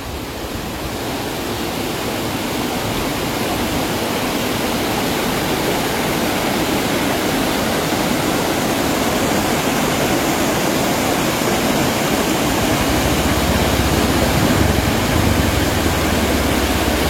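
The strong current of the clear Cileat river rushes in a steady, loud, broadband roar of flowing water that holds without pause throughout.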